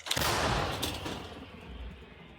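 A single loud artillery blast booms out at the start and rolls away into a long, rumbling echo that fades over the next couple of seconds, in a combat zone in Kherson region, Ukraine.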